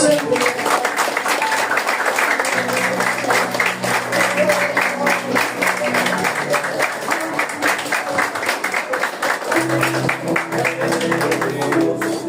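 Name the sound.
church congregation applauding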